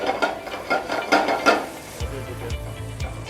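Chopped garlic, ginger and green chili sautéed in a pan for an Indian dish, with a steady soft sizzle under repeated scraping and stirring clinks of a utensil against the pan, close and with no talking.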